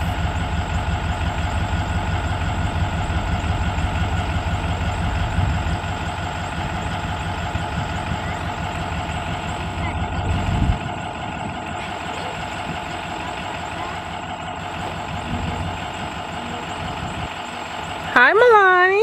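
A large school bus pulls up and idles nearby, its low diesel rumble steady under conversation, with a brief higher squeal or hiss near the end.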